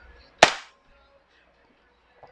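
A single sharp, loud crack from a WE Hicapa 5.1 Type K airsoft pistol firing, with a brief ringing tail fading quickly into near silence.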